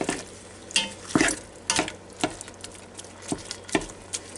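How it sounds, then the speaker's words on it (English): Beef searing in a Ninja Foodi Deluxe pot while being mixed, with repeated clattering scrapes and knocks of a utensil against the pot over a light sizzle, close and fairly loud, no voices. "Now start mixing all that up. Letting it sear good."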